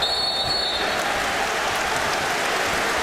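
A basketball crowd of over 12,000 at Viejas Arena keeps up a loud, continuous roar of cheering and noise, with a faint whistle-like tone at the start and no clear talking.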